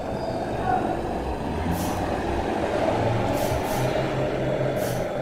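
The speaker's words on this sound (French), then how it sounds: "C'est des scooters qui passent, des voitures." Scooters and cars pass by on a road in rural Belgium, producing a continuous low engine rumble with brief hissing swells as vehicles go past, fairly distant and steady throughout.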